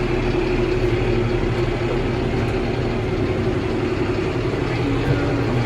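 A tractor running steadily while hoeing beans in the rain, with the power take-off at about 400 rpm and a travel speed near 3 km/h; a continuous, loud low engine drone without pause.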